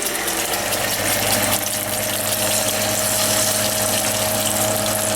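Three tablespoons of sofrito sizzle in a hot pot at home, a loud continuous hiss with a low steady hum underneath, no talking.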